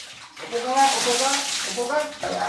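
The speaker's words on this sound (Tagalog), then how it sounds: "dahan-dahan yung pagbuhos ng tubig" Water is poured slowly from a dipper during a child's bath, splashing in uneven gushes while people talk over it nearby.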